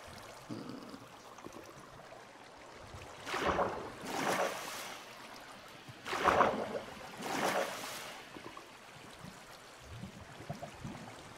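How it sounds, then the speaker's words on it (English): Flowing water in the video game Minecraft, a soft rushing wash that swells in several broad surges, fairly faint over a quiet background. "I have to find the beginning of this water source."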